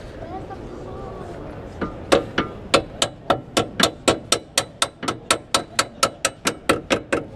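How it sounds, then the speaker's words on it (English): A small cheap hammer taps a drift to knock out suspension bolts on a Mk1 MX-5 in a confined space, giving about twenty sharp, evenly spaced metallic strikes close by after a quieter start. "get one of their little cheap hammers"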